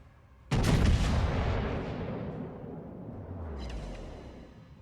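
A heavy naval gun salvo from the Iowa battleship in World of Warships booms out loud and close, rolling into a long rumbling tail, with a second, softer distant report later in the decay.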